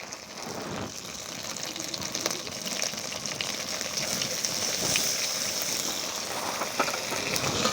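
Tomato paste hitting hot oil in a pan for Bengali tel koi fish curry, a steady dense sizzle with a faint crackle that holds at even loudness throughout, close by and without talk.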